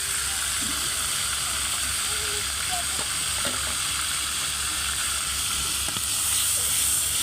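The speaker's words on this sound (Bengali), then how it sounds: "পেঁয়াজটাকে ভেজে নিচ্ছি ভালোভাবে।" Onion paste fries in hot oil for a pangas fish curry, a steady broadband sizzle running throughout with a few faint clinks, close and even in level, with no talk.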